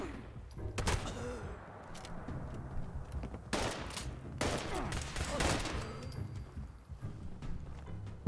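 Gunfire in Fallout 76, several sharp loud bursts of shots breaking out in clusters over a murky, rumbling background, spaced irregularly across the stretch.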